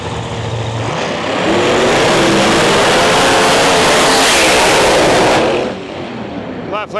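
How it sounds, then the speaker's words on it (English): Screw-blown Chevelle Pro Mod drag car launching down the far side of the track at the US Street Nationals, a loud harsh engine blast swelling into a roaring pass, then fading, with a voice over the start. "Next pair coming at us, we have a screw-blown Chevelle in our lane, far side of the track."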